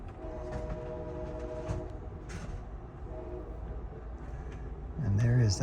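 Amtrak's City of New Orleans passenger train rolling through Hazelhurst, with a steady low rumble and rail hum throughout and a louder burst of wheel and horn-like tones at the end, heard from onboard under faint background voices.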